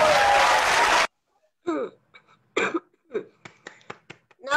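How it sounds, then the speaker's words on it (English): Applause for a contest-winning speaker during an interview fills about a second as a dense, loud roar of clapping, then cuts off sharply, leaving near silence with scattered coughs, throat sounds and faint vocal noises. "Another round of applause for you"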